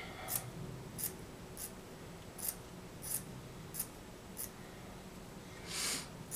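Small scissors snipping through furnace filter material, a series of about ten short crisp cuts at uneven intervals, close and fairly quiet against a soft background.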